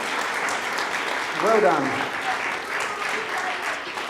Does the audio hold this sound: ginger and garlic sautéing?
no